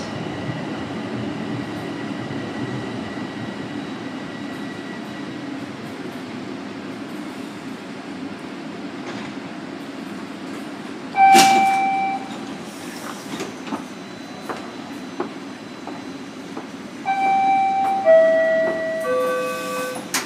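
A Toronto Rocket subway train runs on the Sheppard Line with a steady low rumble, then sharp tonal chimes and whines sound near the doors at a station stop.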